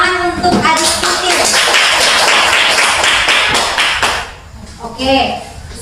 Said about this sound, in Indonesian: Tepuk tangan untuk adik Tuti